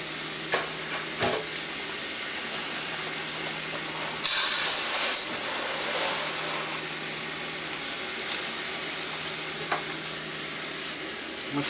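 Hands stir aquarium gravel in water, a continuous wet, gritty churning and swishing that runs steadily throughout, with a brief louder burst of rushing near the middle and no talking.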